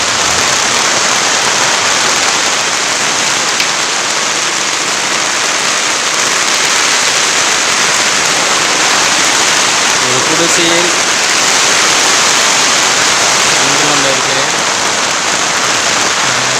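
Heavy rain pours steadily onto a hut roof, a loud dense hiss heard from inside the shelter throughout, with someone speaking briefly over the downpour.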